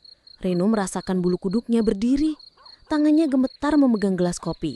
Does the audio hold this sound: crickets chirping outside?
yes